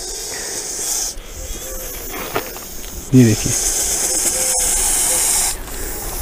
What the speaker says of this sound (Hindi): बहुत ही ज़्यादा तेज़ फुंकार।